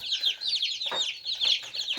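Chicks in a homemade warm-box incubator give a steady stream of high, overlapping peeps and chirps, close and continuous, with a few lower soft clucking calls mixed in.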